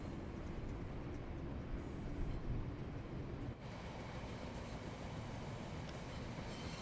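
A long train rolls past at rush hour on the Birmingham Cross City line in Train Sim World 4, a steady, close, continuous rumble of wheels and wagons throughout with a slight dip midway.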